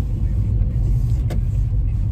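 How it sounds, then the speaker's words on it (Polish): Steady low road rumble inside a car heading off to a Saturday market in The Hague, continuous engine and tire drone with a brief faint click midway, no voices. "My już w samochodzie, jedziemy na zakupy"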